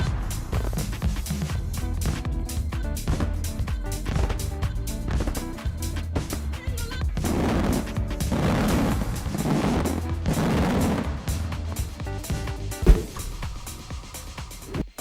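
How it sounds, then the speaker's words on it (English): Daytime fireworks go off in a rapid series of sharp bangs and booms, with dense crackling bursts and one louder report near the end, heard at a moderate distance and fairly quiet. "Daytime fireworks? Are they even a thing?"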